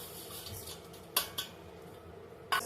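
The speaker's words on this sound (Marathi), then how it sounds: "असे छोट्या चमच्याने आपण तुपामध्ये परतवून घेऊयात" A small spoon clinks against a pan while stirring thin roasted vermicelli in ghee, three or four sharp metallic taps over a faint quiet background.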